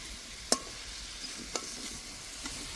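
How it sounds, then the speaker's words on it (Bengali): Potatoes fry in oil with turmeric in a pan, a soft continuous sizzle broken by a few sharp clinks of a spatula stirring against the metal. "এবার ভালো করে ভেজে নেব।"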